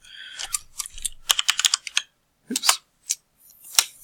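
Bursts of typing on a computer keyboard, quick clustered keystrokes in short runs separated by brief pauses, close and fairly clear with no talking.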